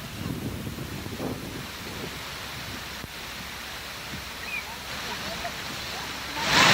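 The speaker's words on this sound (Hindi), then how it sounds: "बारिश लगातार बरस रही है" Heavy rain pours steadily amid floodwater in Bundi, Rajasthan, a continuous close broadband wash of falling water that holds level throughout and swells louder in the final moment.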